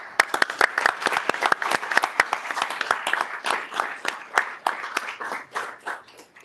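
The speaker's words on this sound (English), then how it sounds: "And one last round of applause." Dense applause at a city council work and regular session, many hands clapping in a room with sharp, overlapping claps held steady for several seconds.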